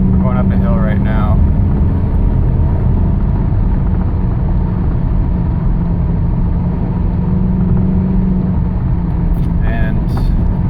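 A car climbing a hill held in fourth gear: a steady, loud low engine and road rumble throughout, with brief voices near the start and end.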